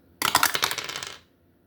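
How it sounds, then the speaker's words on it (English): A die is rolled across a hard surface, giving a dense burst of bright rattling clicks and bounces lasting about a second before it settles into silence. "we're about to roll the dice 6 times"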